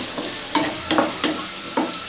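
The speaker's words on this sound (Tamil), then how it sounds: "இப்போ நறுக்கி எடுத்து வச்சுருக்க வெங்காயத்தை சேர்த்துடலாம்." Chopped onions with fennel seeds stirred in hot oil in a pan for a Chettinad crab gravy, a steady close sizzle with a few sharp scraping stirs at regular intervals, no talking.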